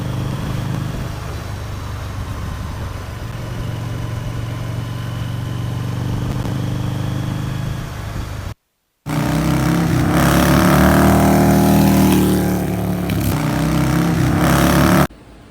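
A Harley-Davidson V-Rod motorcycle with a shaking front end runs while being ridden. Its steady mid-loud engine drone drops out briefly near the middle, then returns as a louder, rougher rumble.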